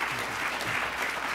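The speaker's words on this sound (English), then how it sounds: "Let's give a round of applause for Larry Rosenstock." Audience applause after a speaker is introduced at an education lecture, a short steady patter of clapping filling the room at moderate level with no one speaking.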